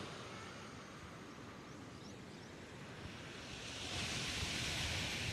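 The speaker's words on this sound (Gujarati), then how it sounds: "અને આ છે દરિયો" Sea waves wash steadily onto the shore at Jafrabad in a continuous soft hiss that swells louder near the end, with no voices present.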